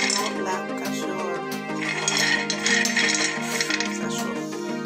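Clinking and scraping of utensils against a pan as things are added, over a sizzling, busy kitchen background with tonal hum.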